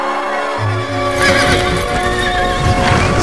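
A horse whinnies loudly and close by, a long shrill neigh over the clip-clop of hooves in a comic Italian Harry Potter and the Goblet of Fire parody scene.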